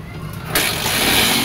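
A JMX 125 motorcycle engine catches after a brief quiet moment and keeps running close by with a rough, weak, uneven sputter.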